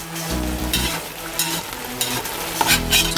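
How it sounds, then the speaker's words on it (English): Cooked rice is scraped and pushed into a mound inside a hot plov pot, the spoon giving close rhythmic scraping strokes over a continuous background sizzle, with no voices. "now we need to make a tower out of our rice, just to make sure that the edges of the rice don't get burnt"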